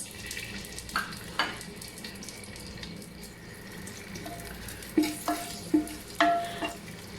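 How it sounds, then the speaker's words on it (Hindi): Onions frying in hot cooking oil inside a clay pot, a steady low sizzle with scattered scrapes and clinks of a spoon against the pot, close and fairly quiet, no talking. "ऑयल गर्म हो गया, अब इसमें मैं शामिल करूँगी प्याज।"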